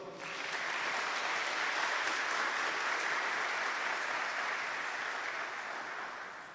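An audience at a Catholic talk breaks into sustained applause, a dense wash of clapping that swells quickly, holds steady and starts to fade near the end, with no speech over it.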